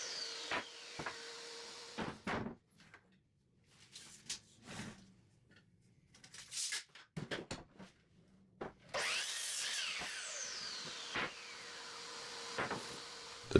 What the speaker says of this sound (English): The joiner I just used to get square edges